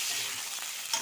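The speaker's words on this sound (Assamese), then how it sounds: "এয়া মই কেৰাহীত দিছোঁ গাহৰি" Pork frying and being stirred in a wok gives a faint, steady sizzle with a light stirring scrape near the end, all within a single second.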